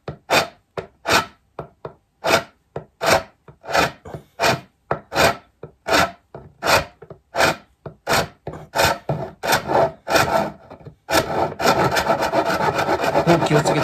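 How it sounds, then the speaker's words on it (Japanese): A coarse file rasps back and forth across a thick wooden piece, giving a steady series of sharp scraping strokes about twice per second, close and loud, which speed into a continuous rasp at the end. "この例のまた100円の粗いヤスリで、もう削っちゃった方がいいかも。"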